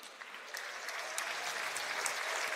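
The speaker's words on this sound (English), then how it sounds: "give it a round of applause for Ukraine as well" Audience applause at a Hearthstone Global Games semifinal esports event, a dense steady clapping that swells after the first half second and holds loud and continuous to the end.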